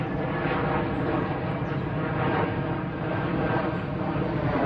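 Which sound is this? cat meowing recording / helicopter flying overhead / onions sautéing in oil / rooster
helicopter flying overhead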